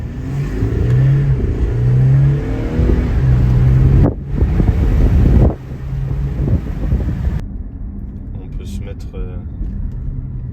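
Audi SQ5 V6 TDI diesel engine accelerating: a loud, rising drone from inside the car that swells through the opening seconds, cuts briefly, then continues with buffeting wind noise before easing to a quieter roll.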